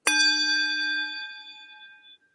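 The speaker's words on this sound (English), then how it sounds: "I do have a hammer, and I do have a cool Tibetan bowl" Tibetan singing bowl struck once with a hammer at an opening ceremony: a sharp metallic strike, then a clear ringing tone with bright overtones that slowly fades over about two seconds.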